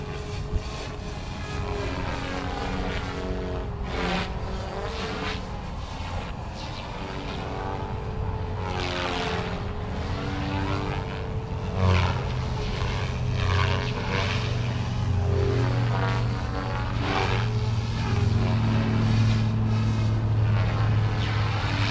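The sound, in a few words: RC helicopter rotor spinning at 70% throttle on bench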